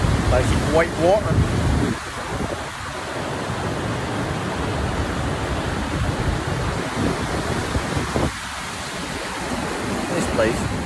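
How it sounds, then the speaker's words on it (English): Continuous rushing white water roars nearby in the Glenfeshie wilderness of the Scottish Highlands, a broad steady hiss with faint wind buffeting the microphone. "White water."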